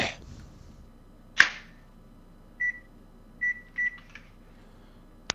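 Three short, clean electronic beeps in a Minecraft Skyblock game: one alone, then a quick pair, after a sharp whip-like snap, over a quiet hum, with a brief click at the end.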